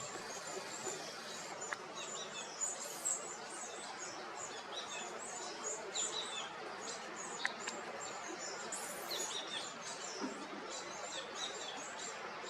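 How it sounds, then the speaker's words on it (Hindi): A common hoopoe feeds its two chicks at a nest, with faint high chirps and twitters repeating over a steady hiss of outdoor background noise. "ये कठफोड़वा नहीं है, ये होपू है, कॉमन होपू। ये खिला रहा है अपने बच्चे को"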